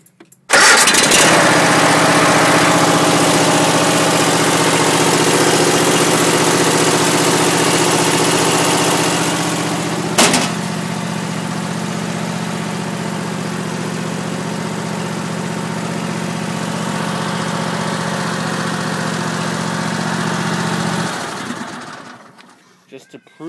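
A Troy-Bilt engine cranks and starts, then settles into a loud, steady idle hum close by for about twenty seconds before being shut off, with a brief sharp click partway through and a voice speaking over it.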